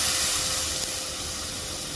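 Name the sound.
broken rice frying in oil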